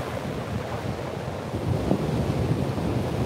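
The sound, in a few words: ocean waves breaking, frothy surf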